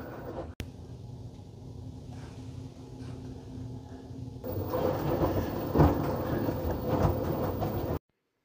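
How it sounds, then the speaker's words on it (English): A washing machine churns in the middle of its wash cycle, a steady broadband rumble and swish that grows noticeably louder partway through, with no voices over it. "here it is in the middle of the wash cycle"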